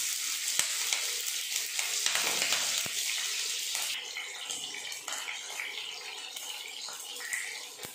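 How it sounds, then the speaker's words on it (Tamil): Chillies and mustard seeds fry in hot oil for a pasta dish, a dense crackling sizzle heard up close, with occasional sharp pops and stirring scrapes, easing slightly toward the end. "மிளகாய் வந்து ஃப்ரை பண்ணியாச்சு"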